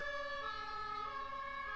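An ambulance siren wails steadily outside in a city, a sustained loud tone holding through the whole stretch with no talk.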